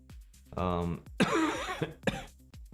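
A man on a live game development Q&A stream coughs and clears his throat, a few rough, close bursts separated by short pauses.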